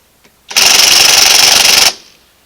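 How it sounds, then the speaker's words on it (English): A loud, close impact wrench hammers rapidly for over a second, removing a lug nut on a lowboy trailer's wheel, then cuts off abruptly, with no talk. "all right, Liam, we're gonna take this impact and take the lug nut back off"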